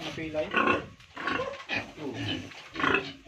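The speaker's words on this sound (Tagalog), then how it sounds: "Ay, baboy damo talaga." Rough, throaty grunts and snorts from a large wild boar sow, repeated several times at close range in short bursts.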